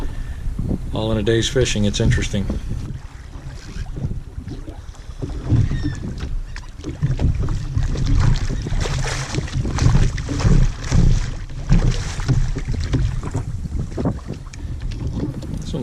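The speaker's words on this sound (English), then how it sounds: "Makes the boat jump around and make some noises with the waves that are a little unusual" A small fishing boat bouncing on rough surf, with water slapping and knocking against the hull in irregular bursts under steady wind noise; someone talks briefly near the start.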